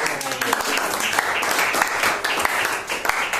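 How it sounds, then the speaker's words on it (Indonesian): A crowd bursts into dense, continuous applause, many hands clapping at once, loud and close throughout. "Tepuk tangan dong."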